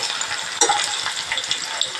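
Garlic and shallots sautéing in oil in a pan, a steady bright sizzle with a few louder spatters and stirring scrapes.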